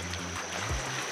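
Creek running quickly over creek rock, a continuous close wash of water with a faint low hum underneath.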